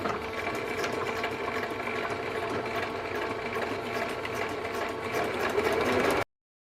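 A sewing machine stitching steadily, a continuous close whirring and rapid mechanical rattle running evenly for about six seconds before stopping abruptly.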